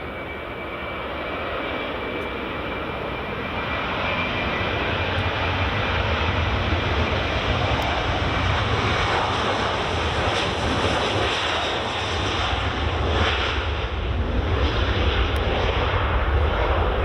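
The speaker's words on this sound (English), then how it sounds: "here's the Ryanair going" A Ryanair airliner takes off from runway 24 at Edinburgh Airport, a loud continuous jet engine roar that builds slightly and holds steady throughout, heard from outdoors with some wind noise.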